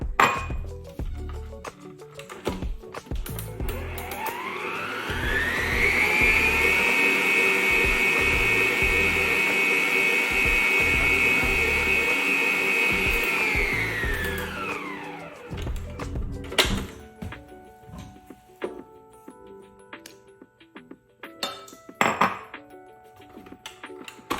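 An electric hand mixer whirs up, holds a steady high whine for about ten seconds while beating an egg into lemon pound cake batter, then winds down, followed by bowl scrapes and clinks.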